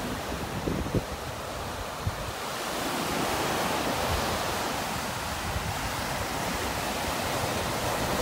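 Rough ocean surf rolls onto a southwest Florida beach at North Naples as a broad, continuous wash of breaking waves, with wind buffeting the microphone and a few faint knocks near the start.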